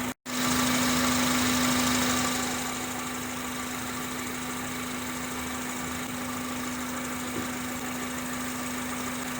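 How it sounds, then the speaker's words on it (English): A car engine hums at a steady fast idle after a quick blip, a constant droning tone with mild vibration, close and alone while the coolant system warms and the thermostat waits to open. "sometimes you can rev up the engine if you want to,"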